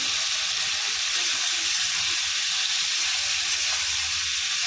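Chopped tomato sizzles steadily in a pan of paneer curry spices with salt, turmeric, chili paste, ginger paste and cumin paste, giving an even, close, hissing fry that holds throughout with no voices.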